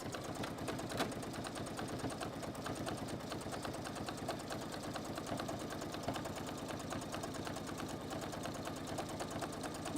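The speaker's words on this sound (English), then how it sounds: "Are we sewing nicely? Are we playing nicely, little sewing machine?" A sewing machine stitching pleather runs steadily and quietly, a fast even mechanical chatter of needle strokes continuing without a break and heard alone.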